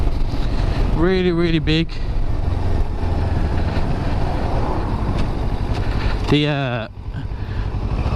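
A Kawasaki Ninja 650 motorcycle engine drones steadily and close while riding, with heavy wind buffeting, and a rider talks over it throughout.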